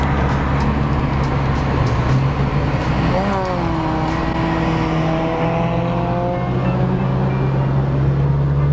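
A 2015 Honda CR-Z with a 1.5 liter engine and muffler-deleted exhaust drives past, a loud, raspy engine drone that rises in pitch as it revs up partway through, with light talk underneath.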